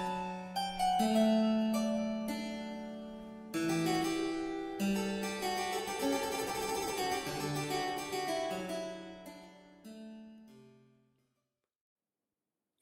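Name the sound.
Bach aria of 32 bars, Goldberg Variations opening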